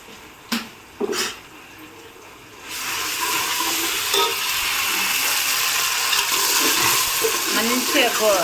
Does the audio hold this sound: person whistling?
no